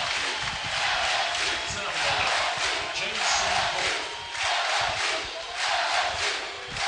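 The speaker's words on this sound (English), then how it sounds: "Now this crowd is getting into it." A college baseball crowd at an LSU versus Texas A&M Super Regional game cheers and roars continuously, a dense, loud wash of voices surging in waves without pause.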